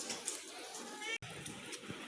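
A cat meows faintly, close by, next to newborn kittens, while a person speaks quietly.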